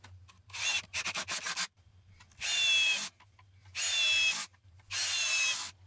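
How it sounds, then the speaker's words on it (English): A power drill drives pocket hole screws into a solid maple footboard rail for a king-size bed, with a burst of short rattling pulses followed by three sustained whirring runs of about half a second each, loud and close. "Now to attach the footboard rail with some glue and some pocket hole screws."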